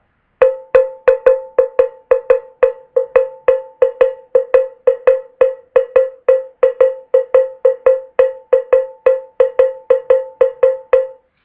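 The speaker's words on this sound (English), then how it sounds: "It's pretty much the same cascara pattern that a timbalero would play" A cowbell plays a steady, syncopated cascara pattern, bright sharp strikes repeating in a tight groove for several bars, close and loud, no voices.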